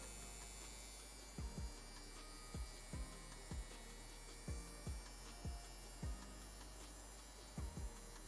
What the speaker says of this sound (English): Allow me to show the needle running. This is going to be the DKLABS Warrior Tattoo Machine.